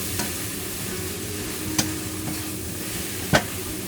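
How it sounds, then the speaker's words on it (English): Greens with minced pork and red chili peppers are stir-fried in a wok, giving a low steady sizzle broken by a few sharp scrapes and clinks of the spatula, with no talking. "Stir a few times."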